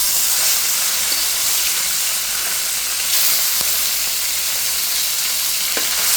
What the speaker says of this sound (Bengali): আর এখানে কিন্তু আমি অল্প তেলেই মাছটা ভেজে নিচ্ছি।